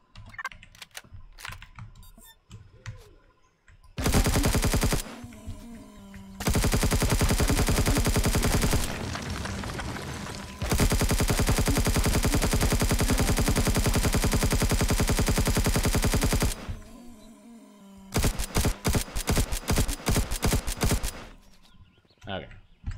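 Assault rifle fire in a video game comes in long sustained automatic bursts and shorter rapid volleys, loud and close, separated by brief gaps.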